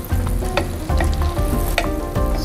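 Butter melts in a hot pan with a steady, crackling sizzle and short bursts of spattering, close and loud, with no voices.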